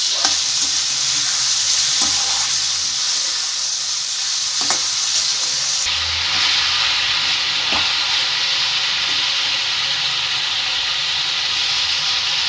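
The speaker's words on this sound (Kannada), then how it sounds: "ಈರುಳ್ಳಿ ಟೊಮೊಟೊನ 2 ಒಟ್ಟಿಗೆ ಹಾಕೊತಾ ಇದ್ದೀನಿ. ನಾ ಇಲ್ಲಿ ಹಾಕೊಂಡು ಇದನ್ನ ಕ್ಲೀನಾಗಿ ಎಣ್ಣೆಲಿ ಫ್ರೈ ಮಾಡ್ಕೋಬೇಕು." Onion and tomato fry in oil in a pan, a constant bright sizzle and hiss with periodic scraping knocks of a spoon stirring, close and loud with no talking.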